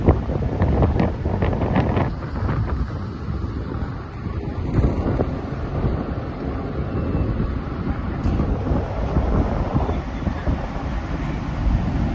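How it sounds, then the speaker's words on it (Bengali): A large ship cruises on the Atlantic Ocean in the Bay of Fundy, giving a steady, loud rumble of engine and water with heavy wind buffeting the microphone throughout. "আমাদের এই বোটটা এখন প্রায় আড়াই ঘন্টা চলবে বোটটা এটা বড় ধরনের জাহাজ মতো"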